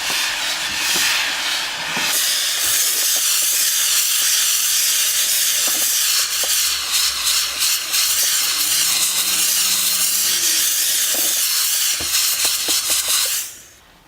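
A garment steamer hisses as it steams a cloth car seat. The hiss is steady and close, with brief clicks and bursts, and it cuts off near the end.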